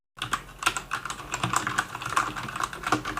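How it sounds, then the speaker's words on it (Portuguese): Rapid typing on a Motospeed CK104 mechanical keyboard with red switches, a steady run of close, crisp key clacks with uneven rhythm and no voices. "O som da tecla."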